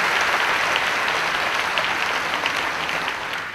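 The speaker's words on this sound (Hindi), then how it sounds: "प्रभु को जोरदार ताली बजा के धन्यवाद करेंगे यीशु मसीह का" A church congregation claps loudly in thanks during a worship service, sustained, full-room applause with crisp overlapping hand claps that stays strong before easing slightly at the end.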